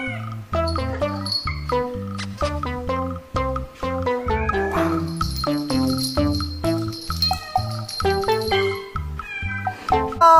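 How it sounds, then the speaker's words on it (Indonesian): A cat meows over and over in a long, loud, close run of repeated cries with steady rhythm, a faint jingle in the background and no talking. "Wow, lihat teman, di sini ada kucing."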